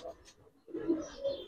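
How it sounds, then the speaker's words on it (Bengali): A female pigeon with triple stripes and red markings coos in low, warbling bursts, a short call followed by a fuller, louder stretch, heard up close amid faint background sounds. "ত্রিপুল পট্টি লাল গিয়ারের একটা মাদি কবুতর।"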